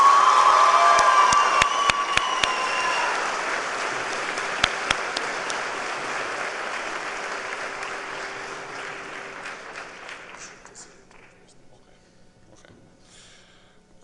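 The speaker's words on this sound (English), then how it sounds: "And I want to ask you all to give a great round of applause to this great" Loud applause and cheering from a graduation crowd celebrating the class of 2014 at Monroe High School, with sharp whoops and claps at first, then slowly fading over about fourteen seconds to a faint patter.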